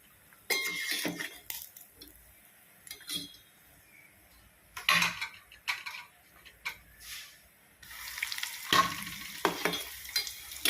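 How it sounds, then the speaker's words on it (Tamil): Bread pieces frying in a pan for a sweet bread dessert, with scattered bursts of crackling sizzle and utensil scrapes and clinks, moderately close, no talking. "இப்போ எல்லாத்தையும் நம்ம வறுத்து நம்ம எடுத்துக்கலாம்"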